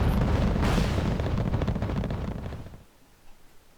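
Heavy artillery fire in the video game Wargame Red Dragon, a dense, loud rumbling barrage of booms that swells around the first second, then thins and fades to quiet with one last faint thud.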